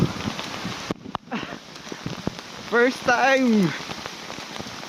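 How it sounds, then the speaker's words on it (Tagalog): Small hailstones pattering down during a winter bike commute, a steady fine crackle of ice hitting surfaces close by, with excited talk and a rising exclaimed voice over it. "Wow, naulan na po ng yelo."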